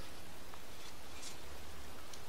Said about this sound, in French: bah il pleut, hein